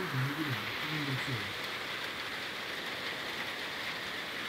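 Rain falls over flooded houses, a soft steady patter close by, while a voice talks briefly at the start before the rain carries on alone.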